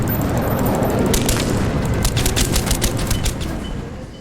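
Gunshots in the video game Call of Duty: Black Ops, a dense, loud fusillade of rapid booming shots and low rumble that runs continuously and then tails off near the end.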